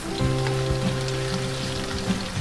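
Potato pieces frying in a pan for Filipino ginisang corned beef, a loud, close, steady sizzle with crackling pops and no talk.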